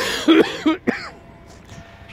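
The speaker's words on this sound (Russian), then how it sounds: "Чтобы записывать, как я кашляю." A person coughs at close range in Palma de Mallorca: two or three sharp, quick coughs, then quiet background.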